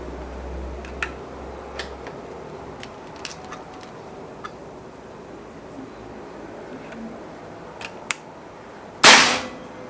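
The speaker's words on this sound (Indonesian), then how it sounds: "Oke, kita lanjutkan untuk tembakan kedua." A PCP Goblin air rifle fires one loud, close, sharp shot with a 9.56-grain GS pellet near the end, preceded by quiet ambience and a few faint ticks and clicks.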